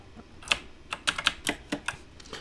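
Keys clack on a computer keyboard in quick irregular bursts, close and fairly quiet, with no voices over them.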